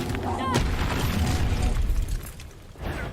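A Confringo fire spell blast in a Hogwarts wizarding video game, a booming burst with crackling debris right after a brief whoosh, loud and close amid game sound.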